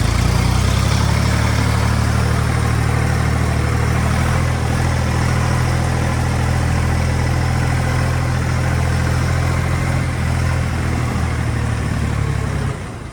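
A Jinma 244 tractor engine runs loud and steady at close range, a continuous low diesel drone with no break, on a mountain property and with no talking.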